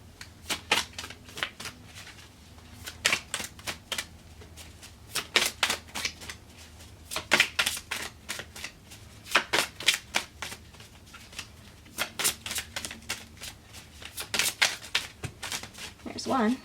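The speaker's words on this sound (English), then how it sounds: "So I'm just going to go ahead and start shuffling the cards" Tarot cards are shuffled again and again in quick riffling bursts, close and crisp, separated by short pauses.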